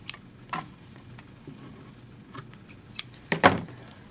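Scissors snip through fabric while cutting pieces for a wine gift bag, a few separate sharp clicks and short cuts, close by, ending with a louder slicing snip.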